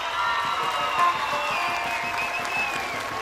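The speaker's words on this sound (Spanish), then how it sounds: "¡Aplausos!" Crowd at a jaripeo bull-riding event in San Martín Tlapala applauding a bull, steady clapping and cheering that runs throughout beneath sustained music tones, fairly loud and even.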